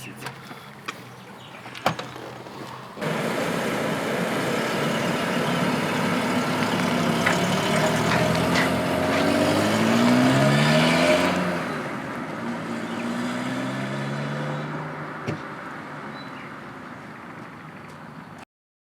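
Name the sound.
car engine running after scrapyard repair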